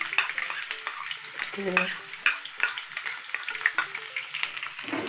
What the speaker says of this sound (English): I'll add my onion to my oil